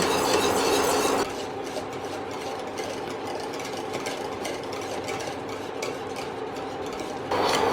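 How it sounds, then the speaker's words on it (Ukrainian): Continuous stirring of custard in a saucepan, a soft scraping swish over a low steady hum of the stove, with a brief louder burst at the start and end. "При постійному помішуванні доводимо до кипіння та потім варимо ще одну хвилину."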